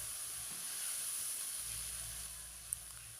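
Biryani masala spices sizzle and fry in a hot pan for black chana pulao, a steady close hiss with faint stirring underneath and no talking.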